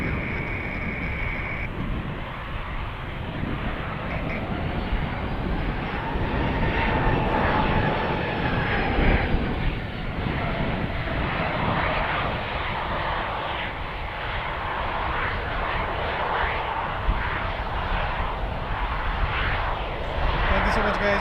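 A Dash 8 turboprop airliner approaching to land at Edmonton International Airport, a steady, sustained engine drone heard from a distance that holds level and loud throughout.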